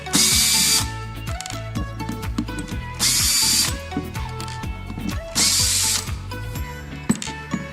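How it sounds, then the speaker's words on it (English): Power drill driving out the four corner screws of a coffee machine's motor bracket, three loud whirring bursts with ratcheting clicks as the clutch slips, close up, with handling clatter between. "we're gonna remove the 4 screws that are in each corner."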